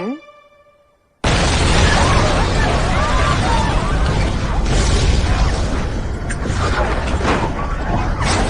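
A bomb blast in a 1938-set drama series erupts after a brief rising tone, a sudden loud boom that settles into a sustained roar of rumbling debris and noise, close and dominant for several seconds.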